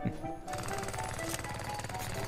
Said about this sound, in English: what happened to my jackhammer?